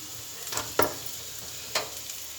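Boiled potatoes being stirred into spiced oil in a pan for aloo paratha filling, with a few soft scraping strokes of a spoon against the pan over a faint background sizzle.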